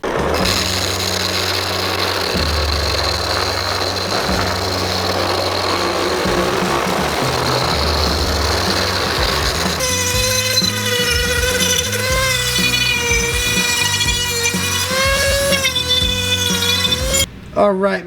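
A power sander works over wooden blocks for custom wood turning tools, a loud continuous whirring grind for about eighteen seconds, its tone shifting partway through as a steadier pitched hum takes over.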